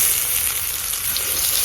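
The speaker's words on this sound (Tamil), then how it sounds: "மீன் தவால போட்டு சவுண்ட் வருது" Fish frying in hot oil on a pan, a steady dense sizzle that carries on loud and close throughout with no talking.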